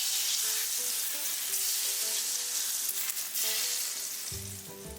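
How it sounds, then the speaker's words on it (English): Hot oil poured over cooked eggplant for Guyanese-style baigan choka sizzles loudly and steadily for about five seconds, a dense hiss with a few faint clinks near the end, with no talking. "And now I'm gonna lace this baby with the hot oil."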